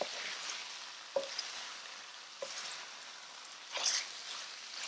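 Ackee and saltfish ingredients are stirred in flavored oil, with a soft, quiet sizzle and a few scattered utensil taps and scrapes against the pan.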